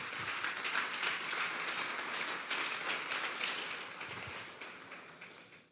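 A congregation at an evening Bible doctrine service claps steadily in dense, continuous applause at moderate distance, holding for several seconds before tapering off at the end.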